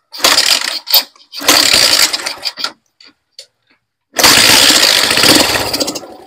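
A loud Bajaj CT100 motorcycle engine with a damaged exhaust revs in rough, sputtering bursts with short gaps between, close up, its exhaust note harsh and uneven.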